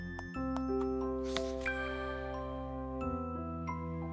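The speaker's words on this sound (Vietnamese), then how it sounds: "Đây là cái chuông của mà thế kỷ." Bell tones ringing in the puzzle game Puzzles For Clef, a series of clear chimes and sustained pitched notes layered over a steady musical drone, bright and close, with no voices.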